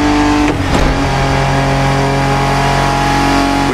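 A Ford Bronco engine in The Crew Motorfest, driven in Oahu, Hawaii, a loud steady mid-pitched drone with a brief rev change near the start, close and continuous.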